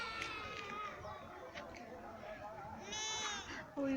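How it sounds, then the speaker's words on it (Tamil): A lamb bleats in a short plaintive burst near the end of the clip, with an earlier faint call, over a busy rural background with people chattering nearby. "ஓ இந்த ஆட்டுக்குட்டி அழகாக கத்துது."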